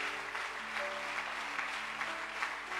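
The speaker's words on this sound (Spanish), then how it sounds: "si lo va a aplaudir a Dios, hágalo fuerte" A church congregation clapping loudly, a steady wash of many hands applauding over a low organ-like hum.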